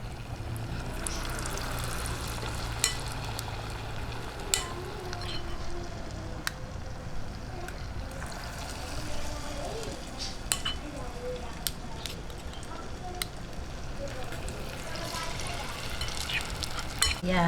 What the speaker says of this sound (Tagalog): Ayan, mainit na po yung mantika. Lagay na po natin itong ating fish ball at vegetables.